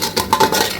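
Stirring a sauce of soy sauce and tomato ketchup with a spoon in a pan, heard as a few quick, close scraping and clinking strokes with no talking.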